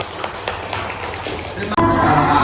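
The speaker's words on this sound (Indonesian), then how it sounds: "tepuk tangan buat bang" A group claps at a steady, even beat, a few spaced claps in a row over a noisy room, then it cuts abruptly to a louder hum and background sound.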